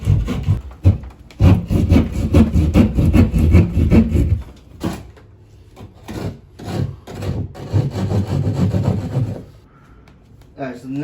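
A saw cuts through a drywall piece in quick rasping strokes, loud and near, pausing briefly midway and again near the end before resuming.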